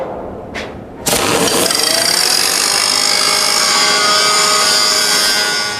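A loud power tool cleans a metal T-joint before welding: after a short rising whine, it spins up abruptly and settles into a continuous, harsh high-pitched grinding drone that holds at close range.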